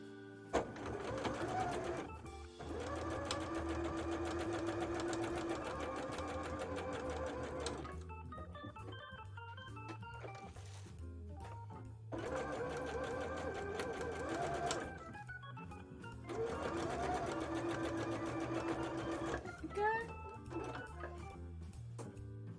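Sewing machine stitching a costume bra, its rapid mechanical whir running in long stretches broken by short pauses, with faint talk underneath.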